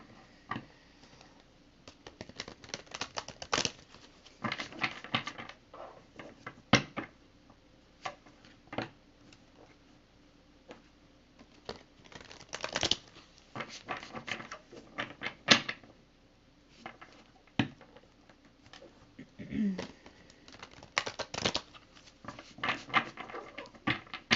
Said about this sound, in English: I'm just going to shuffle these cards real quick here.